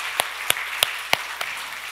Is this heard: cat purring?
no